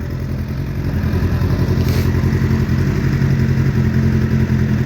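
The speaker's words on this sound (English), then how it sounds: "Appears to be happy enough to sit there running." A Suzuki Bandit 600 motorcycle engine, repaired after a crash and running without its chain fitted, idles steadily and loudly nearby with a constant mechanical clatter and no speech.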